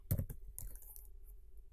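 A few quick keystrokes on a computer keyboard while code is typed in VS Code, soft close clicks in a short burst, a pause, then a final tap.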